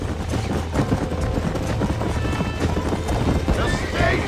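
Horses gallop in the Red Dead Redemption video game, a dense, continuous drumming of hooves with repeated neighs and whinnies rising over the steady pounding.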